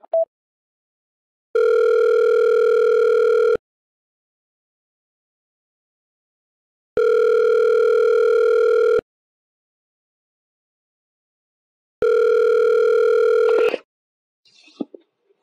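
A telephone tone sounds loud and clear in three separate steady bursts of about two seconds each, with silent gaps between them, followed by a brief faint rustle at the end.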